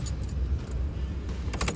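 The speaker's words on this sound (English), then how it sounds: "Key in the ignition there now, Mr. Garry." Keys jangle near the ignition of a pickup truck as the key goes in, with bright metallic clinks in short clusters over a steady low engine rumble.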